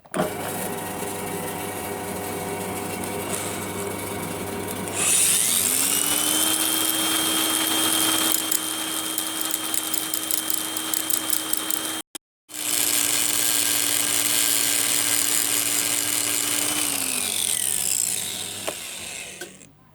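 A grinder or drill press spins up with a rising whine, runs steadily with grinding clatter, cuts out briefly, then runs again before winding down.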